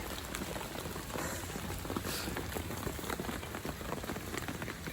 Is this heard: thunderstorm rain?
yes